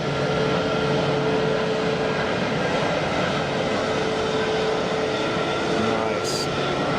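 A Swiss airliner makes a quiet derated takeoff from Geneva Airport, a steady broad jet roar heard at a distance that holds at an even level throughout.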